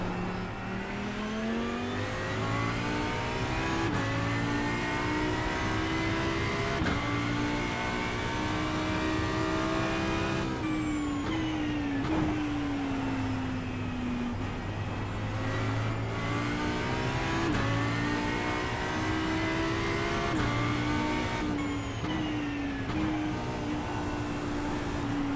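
An Audi R8 LMS GT3 EVO race car engine in the iRacing sim at a wet Imola, revving loudly and continuously, rising in pitch through the gears with sharp drops at each upshift.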